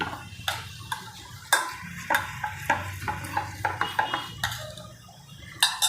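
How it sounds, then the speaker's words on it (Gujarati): A spoon clinks and taps against a bowl in quick, irregular strokes as wheat flour malpua batter with a pinch of soda is mixed, close and fairly quiet. "હવે આને મિક્સ કરી દેવાનું મસ્ત જેવું ખીરું બનાવવાનું"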